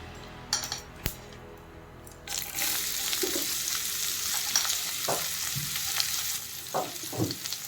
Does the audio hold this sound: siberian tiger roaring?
no